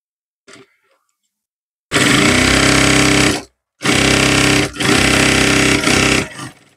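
A sewing machine stitches the waistband belt of a chudidhar pant, running loud and close in two sustained bursts with a short pause between them, after a brief faint handling noise at the start.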